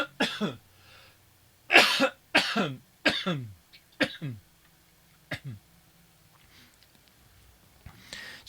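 Several dry coughs and throat clearings burst out in a quick, uneven cluster close to the microphone during a guitar lesson, followed by quieter breathing and a final faint cough.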